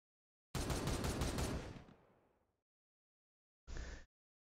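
Burst of gunfire in the Warhammer 40,000: Regicide video game: a dense rapid volley with a decaying tail, followed after a short silence by a brief second burst.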